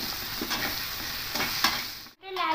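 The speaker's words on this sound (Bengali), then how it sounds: "আলুগুলো দিয়ে একটু ভালো করে আলুগুলো লাল লাল করে ভেজে নেব।" Potatoes fry in oil in a pan with a constant close sizzle and occasional stirring scrapes, which break off briefly before a voice begins at the end.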